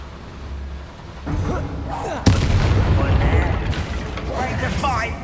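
A Bombarda blasting spell cast in Hogwarts Legacy during combat lands as one sudden loud boom followed by sustained rumbling debris, with voices calling out over the noisy game action.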